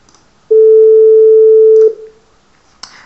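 A pure, steady, digitally generated 440 Hz sine tone sounds for over a second, clean and loud, then stops, followed by a soft breath-like noise.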